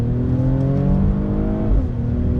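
A 2021 Mercedes-AMG GLE 53 SUV accelerates on throttle, its engine droning loud and close with a steady rising tone, then a brief shift and dip in pitch, with no voices.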